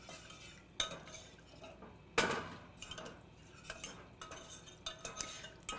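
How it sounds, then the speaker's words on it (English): A whisk scrapes and clinks around a pot, working milk into a butter and flour roux for a broccoli soufflé, in a steady rhythm of metallic taps and swishes, close up with no talk. "Then you're just going to whisk that in until it's completely incorporated and slightly thickened."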